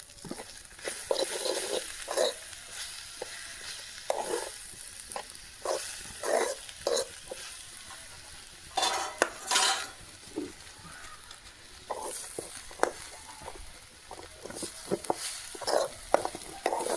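A mixture being stirred in a pan over an outdoor wood-fired hearth in a yard, with repeated scraping strokes of the spoon against the pan over a steady background sizzle, fairly close and alone.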